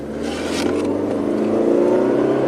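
A PT Cruiser with a turbo engine accelerating on the road, a loud, close engine drone whose pitch rises steadily under road noise, with no talk.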